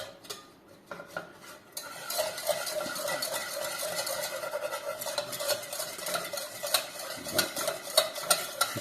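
A butter and flour roux is stirred in a pan with the heat switched off, a spoon scraping and clinking against the metal in quick, uneven strokes after a short quiet start.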